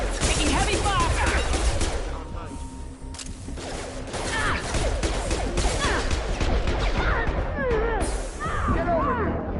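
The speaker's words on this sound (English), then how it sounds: "Requesting assistance. Taking heavy fire!" Heavy gunfire fills a PS4 shooter, with relentless bursts of automatic fire and sharp single shots crackling over one another, loud and continuous for the whole stretch.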